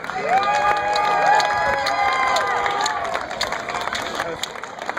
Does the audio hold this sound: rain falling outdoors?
no